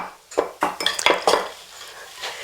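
A metal spoon scraped and tapped against a bowl to clear off biscotti dough, several quick clinks and scrapes close by in a kitchen.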